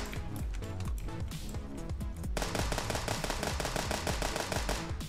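A weak gun fires in the FNAF Fazbear's Shootout video game, sending out a rapid run of loud, close shots over thumping game music for several seconds, with no voices.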